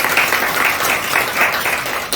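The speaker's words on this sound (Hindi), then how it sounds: "तो अपने लिए खुशी की ताली बजा दीजिए।" At an International Women's Day gathering for mothers at a Brahma Kumaris centre in Shahabad Markanda, an audience gives a brief burst of close, steady, pulsing applause.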